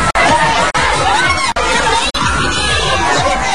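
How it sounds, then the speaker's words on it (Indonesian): An audience at a children's fashion show shouts and cheers in a loud, continuous crowd roar, with excited children's voices and a few brief dropouts. "Suara teriakan mengeluk-ngelukan, sorotan kamera dan tepuk tangan yang meriah sontak diberikan oleh penonton."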